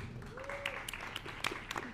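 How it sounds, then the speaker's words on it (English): Applause for Miss World contestants at a press conference, a short burst of scattered clapping under a voice announcing names, moderately loud and uneven. "Big round of applause."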